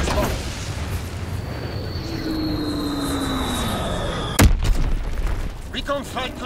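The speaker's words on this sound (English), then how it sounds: "Dropping Blitz X bomb." A dropped bomb in Call of Duty WW2 gameplay, with an aircraft engine droning and a falling whistle, then a sharp, loud blast followed by rumbling debris and faint background voices.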